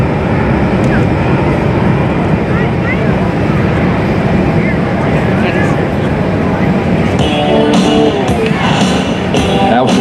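A C-17 Globemaster III military transport aircraft on a flyby at an airshow, a loud steady broadband jet roar with wind buffeting, filling the whole stretch while an announcer talks over it.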